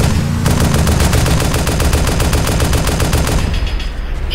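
Rapid automatic gunfire in ArmA 2 Operation Arrowhead, a dense sustained burst of evenly spaced shots that runs loud and close for about three and a half seconds before cutting off.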